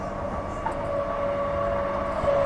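A Transperth train runs on the Armadale line near Welshpool with a steady rolling rumble and a faint high squeal from the rails. No one speaks.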